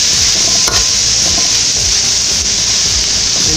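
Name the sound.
carrots sautéing in a pan for shrimp pilaf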